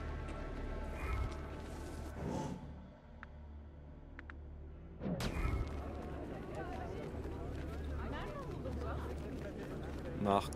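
Heavy low booming blasts from Assassin's Creed Revelations, one early and another midway, rumbling under ongoing chatter and mechanical clatter.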